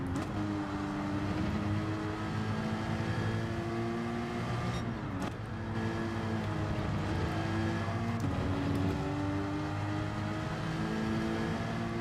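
A Porsche engine in Gran Turismo 7 revs hard during a race, climbing through gears with rising pitch and a brief shift break midway, loud and sustained with no talk over it.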